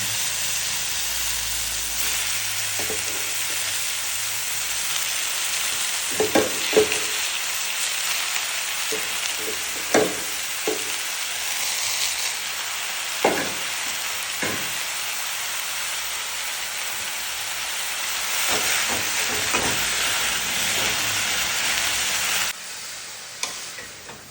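Mushrooms sizzle and fry in a pan seasoned with chili powder and turmeric, a steady close hiss broken by a few sharp crackles and clinks of stirring, with no voices.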